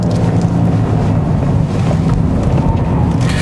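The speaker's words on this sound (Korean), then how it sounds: "조금 더 스포티한 소리가 같이 원래 엔진 사운드와 같이 이렇게 좀 섞여서 이렇게 나오네요" Genesis G80 3.5 turbo AWD engine droning steadily from inside the cabin while driving on a winding road, a sporty synthesized note blended with the real engine sound, with wind rush over it.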